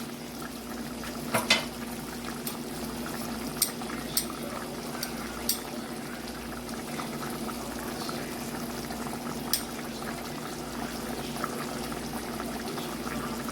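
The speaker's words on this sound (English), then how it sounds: "let it boil down some more" A coconut sugar mixture simmers with a steady low bubbling and a constant hum, broken by a few faint clinks and taps, quiet and continuous with no talking.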